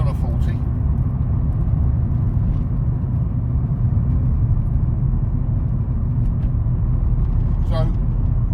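A car drives through a roundabout at a gentle throttle on a 40 road, giving a steady, close engine and road rumble throughout with a brief higher whir near the end.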